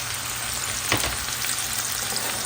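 Sausage and onion sizzle and fry together in a pan, a steady close hiss with a faint stir midway.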